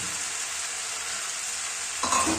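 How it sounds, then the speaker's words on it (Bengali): Chicken tossed with fried potato pieces hisses loudly and evenly in a hot pan, with a sudden louder scrape of stirring near the end and no voices. "আবারও আমরা সব কিছু খুব ভালোভাবে নাড়াচাড়া করে নেব।"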